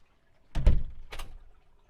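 A house door opening and closing as a dog trainer steps outside, two close knocks and thumps from the door and its frame, a heavier one followed by a softer one, in an otherwise quiet room.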